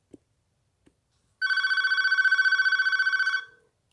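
Close, loud electronic ringing from a Panasonic KX-TG4771C cordless handset running without its power supply: one unbroken buzzy trill of about two seconds that fades out at the end, preceded by a couple of faint clicks.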